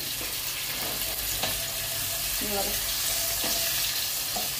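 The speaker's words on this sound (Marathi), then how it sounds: "मग हा पॅनच्या तडका पॅनमध्ये थोडासा कांदा परतवून घेते मी" Onion sautés in a small tadka pan for idli sambar, giving a constant close sizzle broken by clinks and scrapes of a spoon stirring, with no talk.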